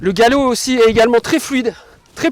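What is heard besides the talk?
No everyday noises stand out.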